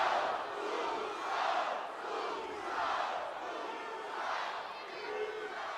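Large wrestling arena crowd at Monday Night Raw in Minneapolis, a distant roaring cheer rising and falling in rhythmic chant-like waves over several seconds, with no clear talk on top.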